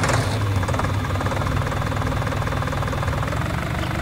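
Small tractor engine in Farming Simulator 19 running steadily, a low rumbling drone with constant loudness and no speech throughout.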